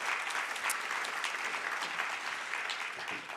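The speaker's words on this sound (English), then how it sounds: "I think we should give another round of applause" Conference audience applause at a science event, a steady wash of many people clapping at even loudness for the whole short stretch, with no talking over it.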